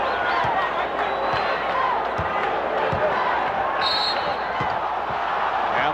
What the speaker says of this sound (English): Crowd responding to the defensive work